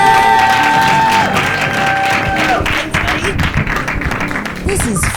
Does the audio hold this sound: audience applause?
yes